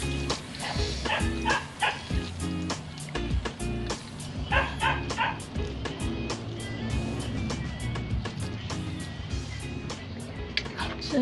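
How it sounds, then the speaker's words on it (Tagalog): Several dogs bark and yip repeatedly in sharp, irregular bursts, some whimpering, fairly close and persistent throughout, over faint kitchen background noise and occasional speech. "mga aso ko, nagtatahulan na naman."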